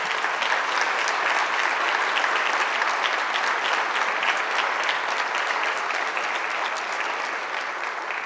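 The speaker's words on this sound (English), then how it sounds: "Let's give them all a round of applause." A crowd at the opening ceremony of the Anderson Student Center gives a sustained round of applause, an even, dense wash of many hands clapping that holds steady and eases slightly near the end.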